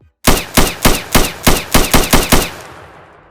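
A rapid burst of about nine loud, evenly spaced gunshots in an Unreal Engine 5 multiplayer shooter, ringing out alone and fading after the last shot.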